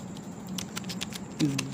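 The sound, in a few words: typing on a computer keyboard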